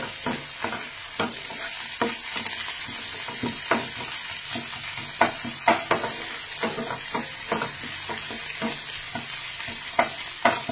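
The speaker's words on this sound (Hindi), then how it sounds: "प्याज गोल्डन होनी स्टार्ट हो गई है तो मैं यहाँ पे डाल रही हूँ ये थोड़ा सा अदरक" Ginger added to golden onions frying in a pan, with a continuous moderate sizzle and irregular stirring scrapes and taps heard close by.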